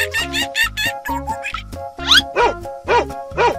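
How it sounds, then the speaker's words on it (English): A dog barks repeatedly in short, bright yips and bow-wows, several quick barks in an uneven rhythm, close and clear with no talking. "Dog."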